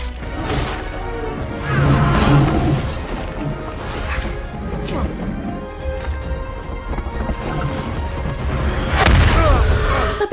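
Grenade explosion in the film Rampage, heard amid a dense action-movie mix of crashes, heavy thuds and booming impacts, with a big blast swelling near the end.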